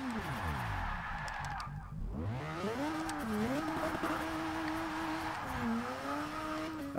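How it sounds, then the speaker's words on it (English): A car spinning donuts in Forza 6, its engine revving up and down in a wavering whine with squealing tires, continuous and fairly close, with a voice talking over it. "Tell you what, this thing does some pretty good donuts"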